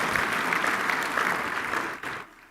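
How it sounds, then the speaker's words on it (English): Audience applause at a mayor's State of the City address, a steady wash of clapping from a crowded hall that thins and fades out near the end. "Y'all can clap for that."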